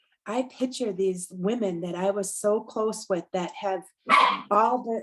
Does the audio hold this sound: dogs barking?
yes